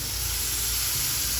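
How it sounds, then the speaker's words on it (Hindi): Chicken pieces for a restaurant-style tikka roll sizzle and hiss steadily in a hot pan, a constant close frying crackle with no voices. "आपको सिजलिंग की आवाज़ आ रही है, ये देखिए"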